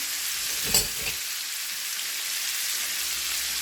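Hash browns frying in bacon grease in a pan, a steady even sizzle like light rain throughout, with one brief scrape or stir near the start, no speech.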